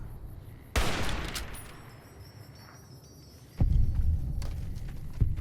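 Loud video game gunfire from Fallout New Vegas: a sharp burst of shots with a trailing rumble, a quieter stretch, then another heavy volley followed by scattered single reports.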